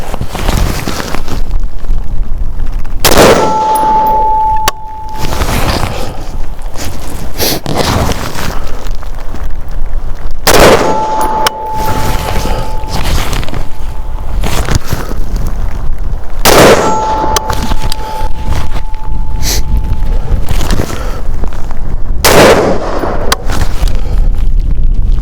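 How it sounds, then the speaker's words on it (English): Five rifle shots with 55 grain full metal jacket rounds strike steel targets, each a loud sharp bang followed by a ringing metallic clang, spaced several seconds apart at a steady range. "So those are the 5 shots with 55 grain full metal jacket."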